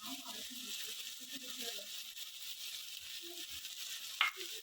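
Finely chopped ginger frying in a pan with keema and onions, a soft hissing sizzle with faint stirring, a brief sharp clink near the end and quiet speech underneath.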